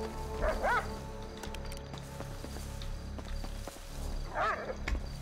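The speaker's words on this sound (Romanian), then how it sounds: "Nu mai lătra, mă, nu mai lătra, că mă enervezi." A dog barking inside the video game GTA 5: two short, separate barks a few seconds apart, fairly faint under steady game background noise.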